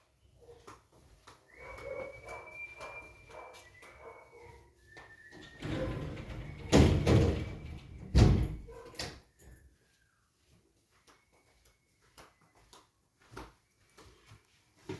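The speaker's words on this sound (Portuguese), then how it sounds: "eu vou fechar a porta aqui, que está um barulho aqui fora" A door being closed indoors to shut out outside noise: a sliding, scraping sweep builds to a couple of loud knocks and thuds midway, then faint rustles and taps trail off.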